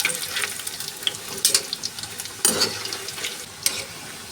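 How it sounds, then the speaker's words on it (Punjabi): Vegetable bread fingers frying in hot oil over a high flame, a steady close crackle with sharper sizzling bursts and a few spatters, no voices. "ਹਾਈ ਫਲੇਮ ਤੇ ਫਟਾਫਟ ਫਰਾਈ ਹੋ ਜਾਂਦੇ ਨੇ"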